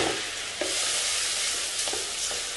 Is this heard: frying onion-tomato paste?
yes